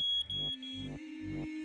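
A photoelectric smoke alarm under test at a testing centre sounds in a series of short, evenly spaced electronic beeps, quiet and somewhat distant, with a faint steady tone running underneath.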